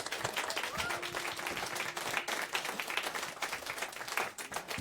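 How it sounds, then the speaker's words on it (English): A seated studio audience claps after a live radio performance at Kink 101.9, a dense, steady patter of applause at moderate volume throughout, with faint voices mixed underneath. "Keep clapping"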